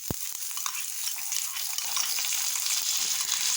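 Washed rice lands in a pan of frying vermicelli and hisses in a steady, bright sizzle that holds evenly throughout, close and fairly loud with no voices.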